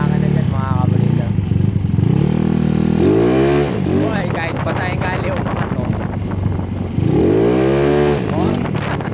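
A motorcycle with a 196cc square engine (63 bore, 63 stroke) on stock gearing is being ridden, its engine drone rising and falling with revving and accompanied by wind rumble, under near continuous talk from the rider.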